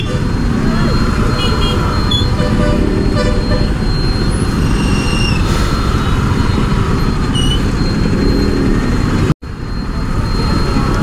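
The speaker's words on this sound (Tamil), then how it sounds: "சரியான டிராஃபிக் இன்னைக்கு." Dense road traffic on a busy city street, recorded from a motorbike, with a steady roar of engines, several brief horn toots scattered through, and a sudden short cut-out near the end; voices talk over it.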